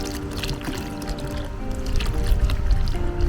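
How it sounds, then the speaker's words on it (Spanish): Whey is poured by hand into a mixture of water and molasses for composting microorganisms, a steady close liquid pour and sloshing with continuous low rumble throughout. "Ahora agregamos el suero y vamos a ir poco a poco disolviendo la melaza con la mano y mezclando con el suero y el agua."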